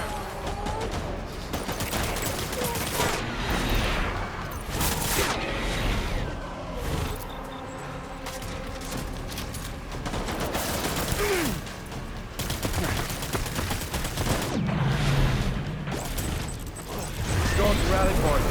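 Gunfire in Death Stranding, sustained loud bursts and scattered shots mixed with vehicle engine noise and mechanical clatter, with voices calling out over the din.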